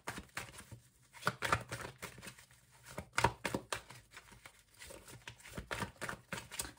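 Tarot cards being drawn and handled close up, soft crinkling shuffles and taps in irregular bursts, quiet and with no talking.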